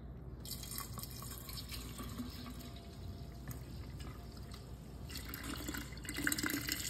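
Simply orange juice, pulp-free, pours into a pitcher in a steady continuous liquid stream, close and moderately quiet, swelling slightly near the end.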